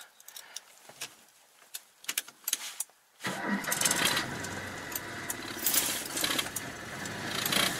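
A Citroen 2CV with the choke fully out starts on the first try. Keys click and the starter churns briefly, then the small engine catches and settles into a steady, close idle.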